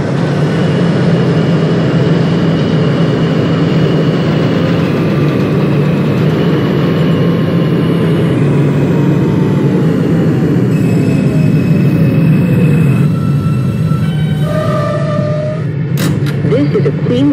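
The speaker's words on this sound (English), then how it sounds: "This is a Queensbound A express train." R160 subway train on the A express line to Far Rockaway, running steadily in the OpenBVE simulator: a loud, continuous low rumble of wheels and motors with faint squealing tones, brief higher squeals near the end.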